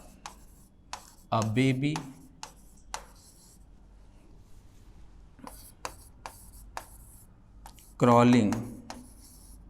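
Chalk or marker writing words on a board during an English class, two short bursts of scratchy strokes and taps while a teacher talks between them.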